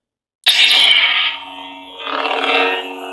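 A Korbanth Raxus Starkiller lightsaber with a Goth Master chassis ignites sharply out of silence, then holds a loud, buzzing electronic hum that dips and swells again as the blade moves.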